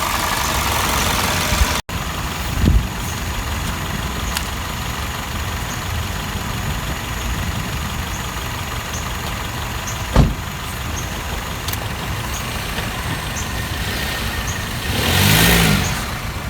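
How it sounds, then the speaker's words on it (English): A Toyota Corolla engine idles steadily at close range during an oil change on level ground, with a few brief clicks and thumps over the low hum. "Let's go ahead and turn the car off"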